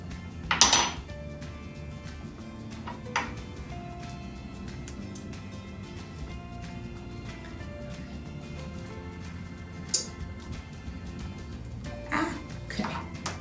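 Kitchen utensils clink and rattle as someone rummages through a drawer for an avocado knife, with scattered metallic knocks and a few louder clatters against a low, steady room background.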